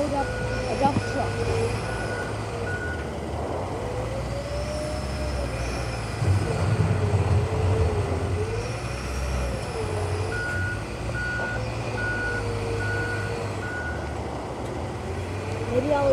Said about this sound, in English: today we're gonna watch a loader load up a dump truck.